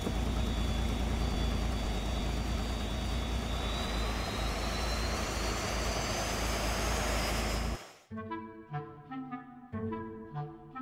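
An experimental plane's jet engine gives a loud, steady roar with a slowly rising whine for about eight seconds, then cuts abruptly to music.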